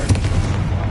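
The Confringo fire spell is cast in a game, producing a brief, loud, low booming burst that rumbles for under a second with no talking.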